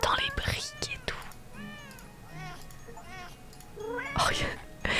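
Cartoon cat meows from the Hidden Cosmo Cats game, several short rising-and-falling mews in a row between clicks, with soft whispered talk around them.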